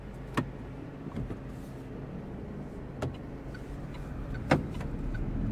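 Steady low cabin hum from a 2025 Opel Frontera SUV, a large family model with light steering, setting off on a drive, with a few sharp clicks and knocks over the constant rumble.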